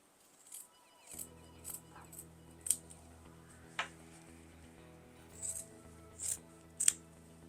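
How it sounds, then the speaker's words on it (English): Scissors cutting the corners out of tote bag fabric: a series of sharp, close snips spaced irregularly, with a soft background hum and faint handling noises in between. "we're just going to cut those out"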